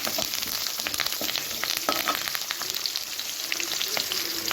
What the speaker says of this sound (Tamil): சேர்த்துட்டு நல்லா கலந்து விட்டு வதக்கி விட்டுக்கலாம்